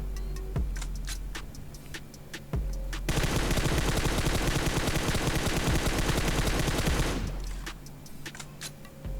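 Rapid M4 rifle fire from PUBG Mobile erupts after a few scattered single shots, a sustained close burst of automatic gunfire lasting several seconds before dropping back to occasional isolated shots over a steady engine hum.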